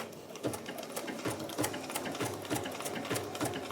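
Sewing machine stitching a raw edge applique, a fairly quiet rhythmic run of quick needle clicks and mechanical chatter, repeating steadily throughout.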